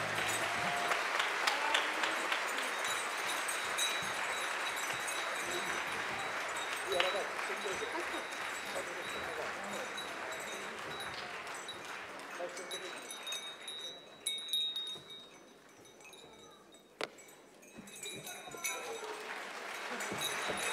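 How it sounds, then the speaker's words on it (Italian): Applause from a concert audience at a carnival tarantella performance, broad and sustained at first, then thinning into scattered claps near the end. "Un applauso, grazie!"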